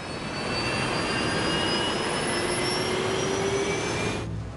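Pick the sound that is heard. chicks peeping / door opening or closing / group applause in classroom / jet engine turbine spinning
jet engine turbine spinning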